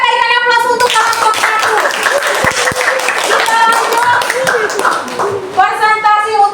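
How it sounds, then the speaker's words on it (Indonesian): A classroom audience applauds a student presentation group, with sustained clapping filling several seconds. Voices are heard just before the applause starts and again as it fades. "berikan aplaus untuk kelompok"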